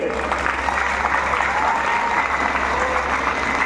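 Sustained applause from an audience at a college arts event, dense steady clapping filling the hall throughout with a faint voice beneath.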